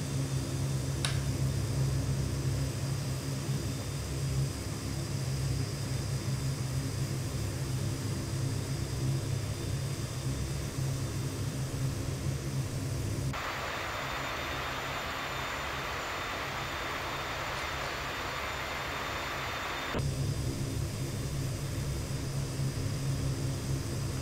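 Steady, loud turboprop drone from a simulated Metroliner III in X-Plane 12, holding through the whole stretch with a brighter, hissier shift partway through before settling back to the deeper hum.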